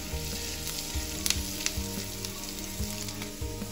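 Garlic sautéing in butter in a pan, a quiet continuous sizzle with a few sharp pops and spatter ticks, set against faint background music.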